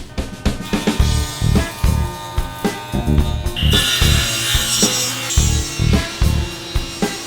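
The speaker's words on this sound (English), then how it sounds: "I'm going to go ahead and edge joint each mating surface" Hand plane edge jointing the mating surfaces of wooden boards for a twin-screw vise, a rhythmic series of loud, close rasping strokes, each stroke followed by a thump.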